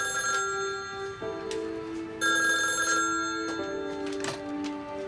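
A telephone rings in repeated electronic trills with short pauses between them, heard across a quiet room over a faint low hum; no one speaks.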